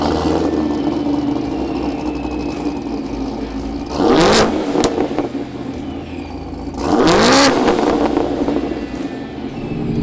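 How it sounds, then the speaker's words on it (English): A supercharged Camaro ZL1 with a ProCharger race valve drives along, its engine droning steadily, then surging loudly in two separate bursts of acceleration with a sharp valve whoosh. "that big red race valve sounds badass when you're going down the street."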